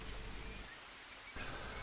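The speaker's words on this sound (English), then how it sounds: "we do need to let ourselves get cleaned off by this rain" Rain falls in the survival game Green Hell as a faint, steady wash of rain hiss that dips briefly midway before resuming, with no voices.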